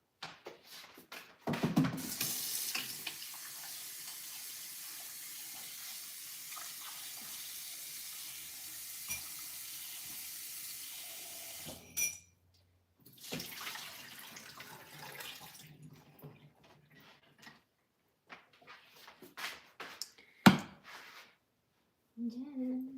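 A kitchen tap runs in a steady stream for about ten seconds while food is rinsed under it, then shuts off, followed by a few shorter bursts of water and quiet handling sounds.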